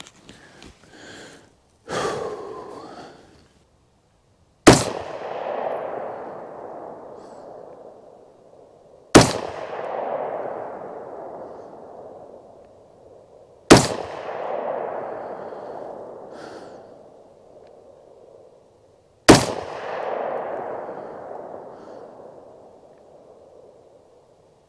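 Ruger AR-556 MPR rifle fired at an outdoor range: five loud, sharp single shots about four to five seconds apart, each one followed by a long fading echo.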